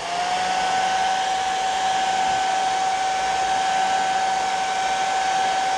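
A hair dryer blows steady heat onto paint over a vinyl stencil on a jerkbait fishing lure, a loud continuous whine with a sustained pitch running unbroken from start to finish.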